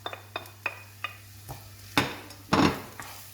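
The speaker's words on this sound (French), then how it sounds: "Et vous faites revenir un petit peu le temps que l'échalote colore" A shallot sautés in neutral oil in a frying pan, a faint sizzle beneath a series of distinct utensil taps and scrapes against the pan, with a couple of louder stirring scrapes toward the end.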